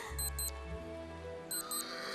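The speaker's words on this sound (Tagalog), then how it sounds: "Naku, ang alarm!" An alarm goes off in a comedic Filipino drama scene, sounding as short repeated electronic beeps in two bursts over a sustained musical tone.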